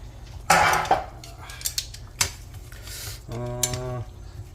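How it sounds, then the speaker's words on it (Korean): Carrots and onions stir-fried in a lightly oiled pan for japchae, with scattered metallic clanks and scrapes of a utensil against the pan, some loud and close, separated by quieter gaps and ending in a brief steady hum. "야채 당근하고 양파를 먼저 볶아줘 볼까요?"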